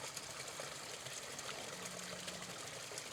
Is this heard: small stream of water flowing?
yes